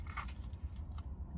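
A crunchy bite into a fried mozzarella stick from Dave's Hot Chicken, heard close up as a dense crackling crunch with brief chewing, no talking.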